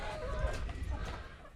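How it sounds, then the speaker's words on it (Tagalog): Hens in a backyard coop give a brief run of soft, faint clucks at close range, with no talk. "Ayan yung mga manok ko mga kanaypi"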